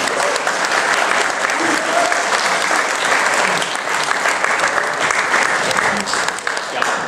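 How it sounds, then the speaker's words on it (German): Loud, sustained audience applause fills a hall at an anime convention, dense clapping holding steady throughout with crowd noise beneath and no pause. "Applaus an euch."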